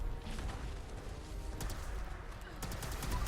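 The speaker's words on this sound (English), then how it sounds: "You'll notice how the plasma bolts, they curve in the air like that." A plasma gun fires in a Bethesda video game, sending out sharp bursts of shots in irregular clusters over a dense, noisy background.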